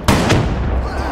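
Shotgun firing in Black Ops 3, two sharp, loud blasts in quick succession near the start, followed by a rumbling decay.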